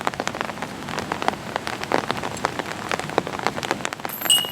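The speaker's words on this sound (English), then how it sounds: "With the rain continuing to pick up in intensity" Steady rain falls on an outdoor disc golf course, with dense patter and scattered louder drops hitting nearby surfaces, continuous and fairly close, and no voices.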